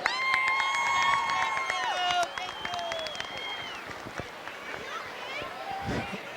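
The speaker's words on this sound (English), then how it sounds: "give them a big round of applause for all of their efforts" A crowd at a kids' relay race for first and second graders claps and cheers, with children shouting over the applause. A long steady whistle-like tone rings through the first seconds, and the noise trails off and thins toward the end.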